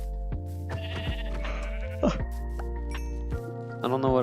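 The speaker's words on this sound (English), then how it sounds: "Hello, Mr. Sheep." A sheep in the video game Minecraft gives several bleats, mixed in with game sounds, with a voice talking over parts of it.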